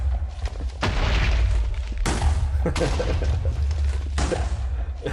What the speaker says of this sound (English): Promise you, this is the last explosion we'll do today.